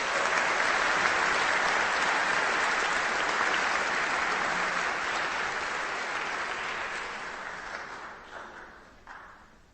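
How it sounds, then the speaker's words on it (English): Sustained applause from a large crowd at a law school commencement, steady and loud for most of the stretch before gradually thinning and fading out near the end. "Please give all our Golden graduates a round of applause."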